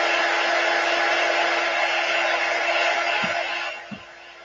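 A heat tool warms Chalk Couture wax with a steady, loud, breathy blowing roar that holds for about three and a half seconds, then fades as it switches off, leaving a couple of faint soft knocks.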